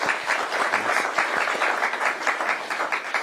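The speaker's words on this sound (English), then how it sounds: "Let's give them a round of applause, please." Applause from an audience at a governor's announcement on a climate litigation settlement, steady dense clapping sustained throughout at moderate loudness with no speech over it.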